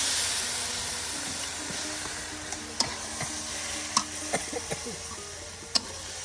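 Chicken pieces coated in ground spice paste, with fried skin, sizzle and fry in a pan in a village kitchen, giving a steady hiss with occasional sharp clicks of a utensil stirring and scraping close by.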